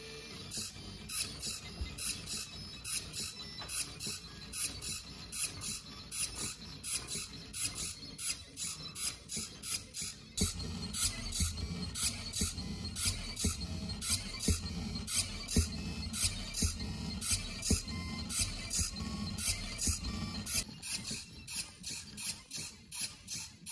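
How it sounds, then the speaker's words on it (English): AxiDraw pen plotter drawing a pattern, rapid repeated whirring and clicking servo strokes in a fast, busy rhythm, close and moderately quiet, with a denser, louder stretch partway through. "I'll go over to the AxiDraw controls and just start plotting from here."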